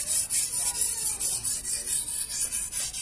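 A knife blade being sharpened back and forth on a King Deluxe whetstone, a steady rhythmic scraping rasp with repeated strokes, close and fairly loud, with no talking.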